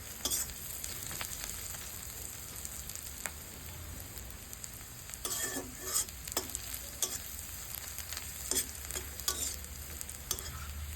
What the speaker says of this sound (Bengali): তেজপাতা 2 পিস দিয়ে দিলাম। এবার ভালো করে নেড়ে চেড়ে